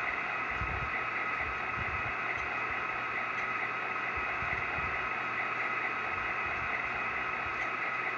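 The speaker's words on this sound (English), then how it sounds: "If you heard it, it's kind of like a blower." A steady, even whoosh from the dynamic brake blower of an HO scale Intermountain BN SD40-2 model locomotive's sound system plays throughout without pause, with soft low rumbles underneath and no voices.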